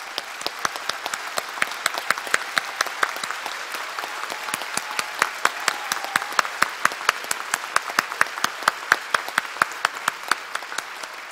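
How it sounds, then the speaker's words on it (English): Applause at a Women's History Month celebration, a thin, fairly distant patter of claps from a modest crowd, with sharp individual claps heard distinctly and steadily throughout. "can you guys all give them a round of applause?"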